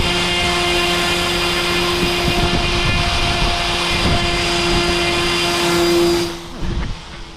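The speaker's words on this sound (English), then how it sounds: "The airplane was flying much better than I first anticipated, and I was pretty surprised how well it performed." A model airplane's engine runs at full throttle for takeoff, a loud steady drone with a strong tonal whine that drops away sharply near the end, with no talking.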